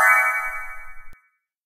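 A phone text message notification, a bright tonal chime that rings for about a second and then stops abruptly, clean and alone.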